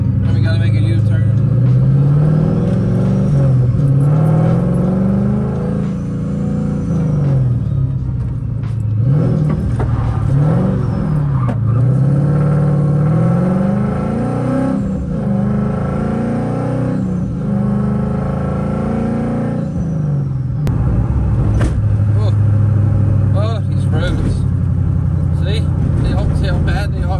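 Car driving through traffic and swinging into a U-turn, heard from inside with a steady loud engine rumble that rises and falls as it accelerates, while a person talks over it throughout.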